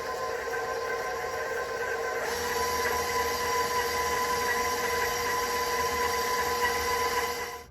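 Electric stand mixer creaming butter and sugar for snickerdoodle cookies, whirring steadily and close, then stepping up to a higher, louder speed partway through and running on without pause.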